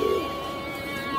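Pigeons coo during a brief moment at a rooftop pigeon loft, a soft, low, warbling call heard close by with no talk.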